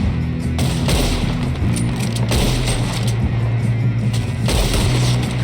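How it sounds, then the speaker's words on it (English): Gunfire in the Western video game Red Dead Redemption 2, a dense, loud stream of overlapping shots and booms running steadily through the whole stretch with a rumbling low-end bed. "Put a bullet in that bastard."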